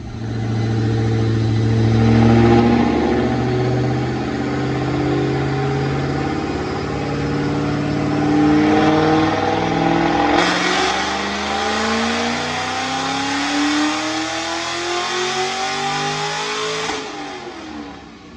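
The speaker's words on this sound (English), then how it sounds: "Check out this dyno pull." A supercharged 2008 Mustang GT with a manual transmission, running 93 octane, revs hard on a dyno, its loud engine note climbing steadily through the gears with a rising supercharger whine before cutting off near the end.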